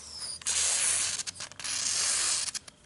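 Dollar-store silicone lubricant sprayed onto a towel in a few close hissing bursts, each a second or so long with short gaps between them.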